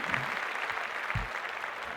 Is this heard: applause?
yes